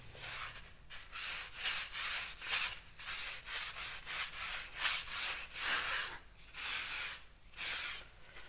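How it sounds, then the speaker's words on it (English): Scouring pad rubbing pre-primed wooden trim by hand, a rhythmic series of close, raspy back-and-forth scrubbing strokes repeating steadily. "So, scouring pad."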